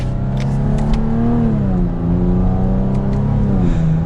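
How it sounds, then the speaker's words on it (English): The V6 exhaust of a 2023 Chevrolet Camaro Convertible 2LT RS revs close by, a strong steady growl that swells and dips in pitch over a few seconds, with no talking. "I can't get over how good it sounds for a V6."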